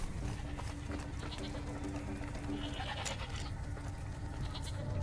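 Goat bleating in the Far Cry 2 video game, a couple of short nasal bleats amid dense game ambience and clattering noise, moderately loud.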